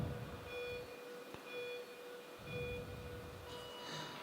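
Countdown beeps at the start of a state championship track cycling race, with a thin steady electronic tone sounding at intervals over a low hum of arena background noise.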